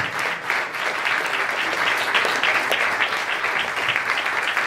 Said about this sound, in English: Let's give a big round of applause for that guy.